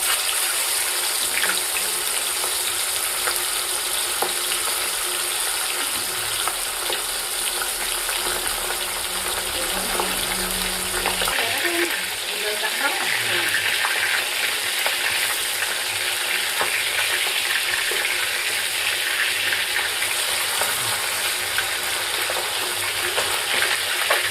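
Folui fish slide into hot white oil in a kadai and sizzle loudly and steadily, a dense frying hiss with a brief stirring or shifting sound partway through and no talk.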